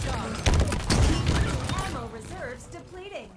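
A SPNKR rocket launcher fires in Halo Infinite, with loud explosive blasts and crashes in the first half that fade as a person starts talking.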